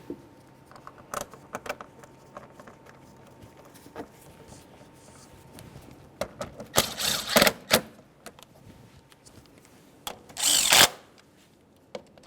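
Short bursts of a power tool driving 10mm alternator mounting bolts on a 2012-2018 Nissan Altima 2.5L, heard as two loud close whirring runs after scattered clicks and tool handling.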